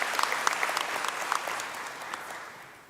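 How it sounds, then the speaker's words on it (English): Sustained applause from a conference audience at an investment conference in KwaZulu-Natal, dense steady clapping from a large crowd that gradually fades toward the end. "I think that deserves a round of applause,"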